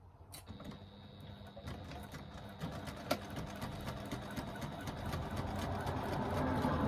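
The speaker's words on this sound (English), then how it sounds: "we're going to stitch along the top edge to join those two pieces together using a 3/8 of an inch seam allowance" A sewing machine stitches two fabric panels together along a top edge with a 3/8-inch seam, running in a continuous mechanical whir with rapid ticking that builds gradually louder, close and without talk.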